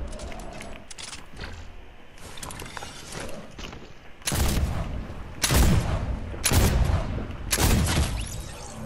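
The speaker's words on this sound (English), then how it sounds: "Pistol is low key good." Pistol gunfire in the Fortnite video game: a few scattered early shots, then four loud, sharp cracks in quick succession, each with a short echoing tail.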